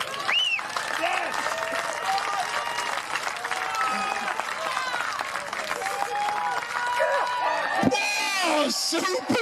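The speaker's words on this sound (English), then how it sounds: "that's some clapping!" Crowd at an outdoor Highland Games stone-throw event claps and whoops loudly and continuously, with excited voices and shouts mixed in over the applause.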